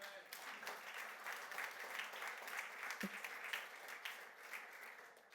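A church congregation applauds steadily at a moderate distance, a broad sustained wash of clapping with a few louder swells and a faint voice or call underneath.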